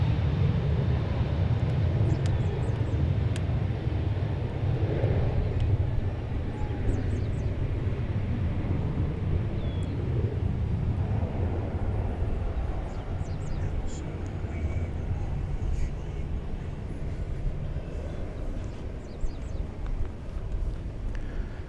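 Qantas airliner on its daily flight from Sydney arriving at DFW airport, a low distant roar rumbling steadily for the whole stretch with faint wind and background murmur.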